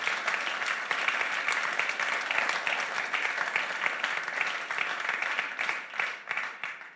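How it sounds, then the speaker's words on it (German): Church congregation at an Easter service gives a steady round of applause, dense close clapping that holds for several seconds before thinning out toward the end. "könnt schon einen Applaus geben"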